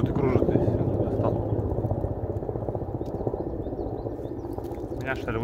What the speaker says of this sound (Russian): Вертолет что-то кружит и кружит.